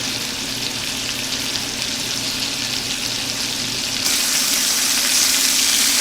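Chicken pieces sizzle and fry in a pan, a steady close crackle that grows a little brighter and louder toward the end, with no talk.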